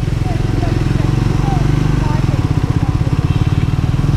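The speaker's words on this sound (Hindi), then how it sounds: "बहुत तेज़ आवाज़ आ गई बाइक की।" A Triumph Scrambler 400 X motorcycle engine revs hard and close, its loud pulsing throb steady throughout, with a voice briefly heard over it.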